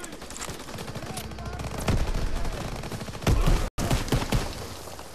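Gunfire in a Call of Duty WWII battle: several loud, sharp shots and short bursts ring out over a steady rumble of combat noise, and voices talk underneath.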